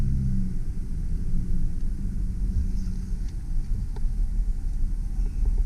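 A red 2001 Mazda B4000 SE V6 4WD extended-cab pickup in two-wheel drive, reversing with a steady low engine rumble and drivetrain drone, some wind noise, no talking.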